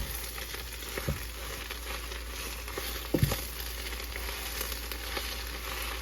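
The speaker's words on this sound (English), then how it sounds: "And you're sauteing these collards down." Collard greens sautéing in bacon grease, a soft continuous sizzle with a couple of brief clanks of a utensil against the pan, fairly faint and close.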